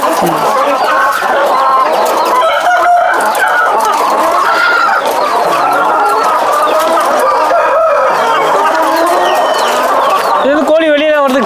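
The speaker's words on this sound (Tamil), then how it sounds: "இப்போ இதில் ஒரு ஆயிரத்தி ஐநூறு கோழி இருக்குது" A dense flock of about 1,500 chickens in a poultry shed clucks and squawks nonstop, many birds overlapping at close range, with an occasional louder crow rising above the chatter.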